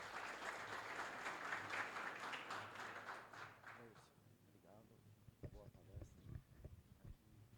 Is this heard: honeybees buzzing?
no